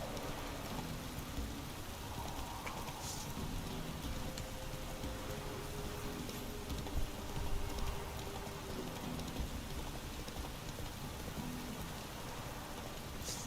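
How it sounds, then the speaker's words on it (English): Steady heavy downpour in The Witcher 3: Wild Hunt video game, a dense continuous hiss of rain filling the scene with no break and no voices over it. "This downpour's a bastard"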